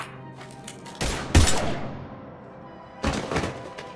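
Gunfire from the video game Mass Effect 3 breaks out in two loud volleys of sharp bangs, the first around a second in and the second near the end, with quieter gaps between.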